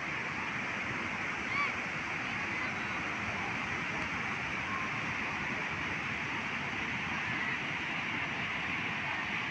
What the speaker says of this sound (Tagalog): Ayun na po ang alon ngayong hapon